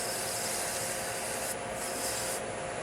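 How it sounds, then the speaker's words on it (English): Sandpaper of 400 grit rubs steadily against a pen blank at slow speed, a continuous close, soft hissing scrape that holds even throughout with no talking. "Remember, sandpaper cuts best at a slower speed."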